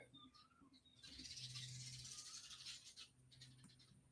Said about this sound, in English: you can probably hear all the birds in the background.